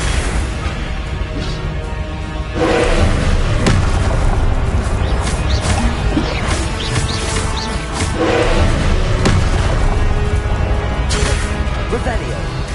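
Incendio fire spells cast repeatedly in Hogwarts Legacy, loud whooshing, booming fire bursts with crackling hits recurring every few seconds amid dense combat noise.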